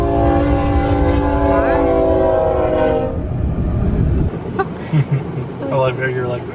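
Train passing a level crossing, horn blaring with loud sustained tones for about three seconds over rumbling wheels, then fading to rolling rail noise while people talk nearby.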